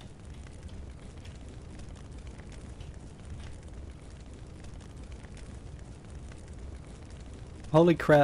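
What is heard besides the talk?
fire attack in video game Huaxia: Warring States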